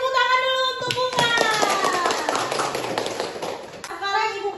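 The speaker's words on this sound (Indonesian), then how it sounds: "kasih tepuk tangan dulu untuk Bunga" A classroom of children clapping for a student, a burst of applause rising in the middle and fading, with a teacher's voice speaking before and after it.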